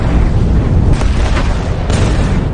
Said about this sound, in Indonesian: beberapa granat yang dia bawa, Rai berhasil meluluhlantakkan pasukan tersebut sampai benar-benar tak berdaya